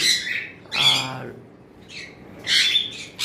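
A pair of pet cockatiels squawking in short, harsh bursts close by, several separate calls with quiet gaps between them.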